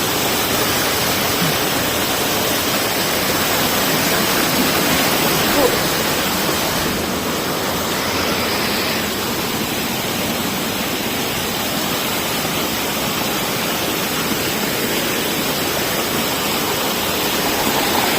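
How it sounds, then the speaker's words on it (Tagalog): Mandagong Falls waterfall pouring in a steady, loud, broadband roar that stays constant throughout, with no clear voices over the rushing water. "Kaligo tayo ng di oras sa napagandang waterfalls ng Mandagong Falls."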